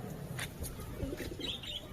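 Pigeons outdoors in the morning, with soft coos and chirps repeating at a moderate distance over steady background noise, plus a brief flutter of wings as a pair takes off.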